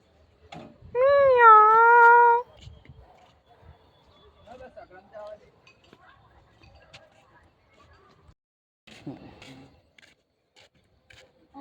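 A loud, drawn-out cat meow rises and wavers near the start, followed by quieter scattered sounds and faint distant voices.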